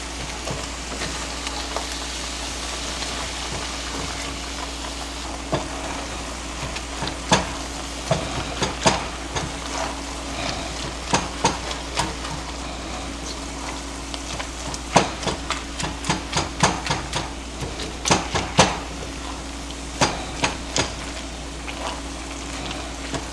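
Ground beef sizzles softly in a frying pan at home while a utensil flips it and chops it apart. Sharp scrapes and taps come in irregular clusters over a steady low frying hiss.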